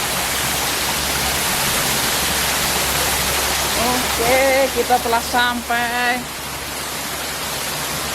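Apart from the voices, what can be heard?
small waterfall in Japan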